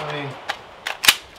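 A few short, sharp pops ring out from a firearm fitted with a Def Can 3 Ti titanium suppressor, clipped suppressed reports in quick succession after a brief spoken line.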